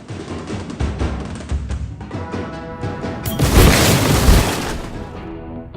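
Dragon Necryx attacks defensive towers in a video game, unleashing loud, dense booming blasts and crashing impacts that swell into a heavier burst midway before fading.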